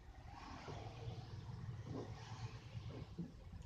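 Low, steady engine rumble and road noise fill the interior of a moving bus, faint and continuous with slight swells.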